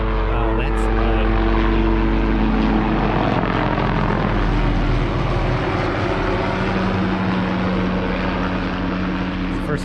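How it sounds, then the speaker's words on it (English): A helicopter passes low overhead, its loud, steady rotor and engine roar filling the scene throughout with a constant low thrum and broadband rush, with no talk heard. "It's the first time I've ever seen a helicopter that low around here."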